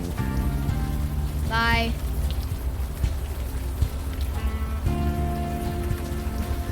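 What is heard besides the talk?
rain in the video game Unavowed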